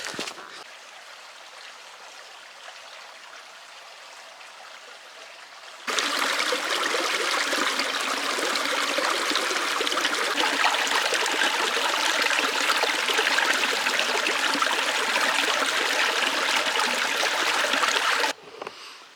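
A small trail stream trickles steadily nearby while drinking water is collected on a hike; the flow swells into a louder, fuller rush for most of the middle stretch, then drops back.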